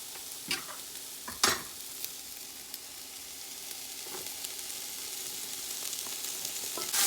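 Grated carrot is stirred into mixed fried rice in a hot pan, a close crackling sizzle broken by a few sharp scraping stirs, with no talk over it.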